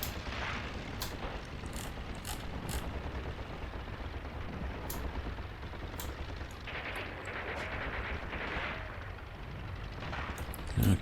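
Soldiers fire guns in the tank game Tank Warfare: Tunisia 1943, a steady crackle of rifle and machine-gun shots with occasional heavier booms, mid-distance and continuous amid battle noise, with a voice talking briefly.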